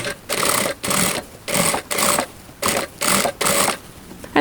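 Sewing machine stitching a linen summer dress close to the edge, running in short rhythmic bursts of whirring with brief pauses between each run, close and clear with no talking.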